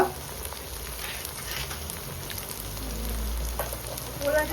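Spice paste of ground chilli, turmeric, cumin and coriander frying in a pan for a Bengali duck curry with chui jhal, giving a steady soft sizzle with faint stirring scrapes, close and without talk.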